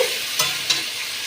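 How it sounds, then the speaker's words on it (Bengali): Chicken pieces fry in a pan for a spicy curry, with a soft continuous sizzle and two brief scraping stirs close by, and no talking. "চিকেনগুলো একটু ভেজে নেব বন্ধুরা।"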